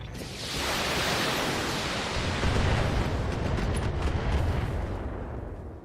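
Missile volleys launching in the BattleTech video game over a mineral field, a dense, sustained rumbling roar with crackling bursts that swells after a quiet start and holds loud throughout, no talk.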